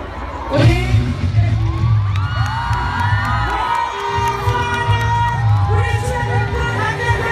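A large crowd at a political rally in Gwanghwamun, Seoul, on the eve of a presidential election, cheering and whooping loudly and continuously, with shouts and a voice over a sound system mixed into the roar.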